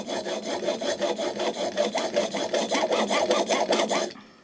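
A hand plane blade honed on a sharpening stone gives a close, rhythmic series of gritty scraping strokes, steady in pace and growing slightly stronger before stopping abruptly.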